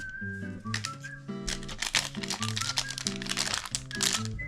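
A small gold Wankul booster card pack is torn open up close, with bursts of crisp foil crinkling and crunching that come in quick irregular clusters, over a faint background of music.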